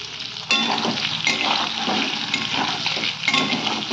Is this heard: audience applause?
no